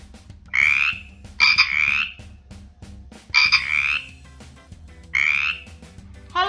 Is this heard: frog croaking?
yes